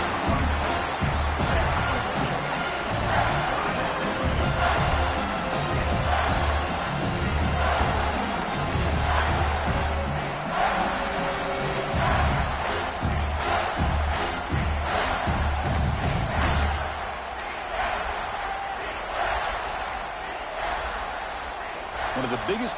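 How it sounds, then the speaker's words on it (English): Stadium crowd in a college football video game roars and cheers continuously around a third-down play, a dense loud wash of voices with an on-field commentator talking over it. "the crowd really getting into it"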